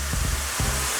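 Smoked paprika sizzling in hot oil in a pan, a steady close hiss with a few soft low bumps underneath.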